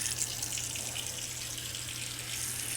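Tap running cold water into a bowl in a kitchen, a steady, close hiss and splash of filling water with no pauses.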